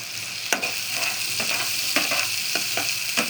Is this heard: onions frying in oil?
yes